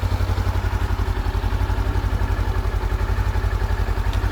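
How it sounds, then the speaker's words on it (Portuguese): Honda CB500X motorcycle engine idling with the clutch lever pulled, a steady close-up rumble with a fast, even mechanical clatter running throughout. "É o barulho ao acionar a embreagem"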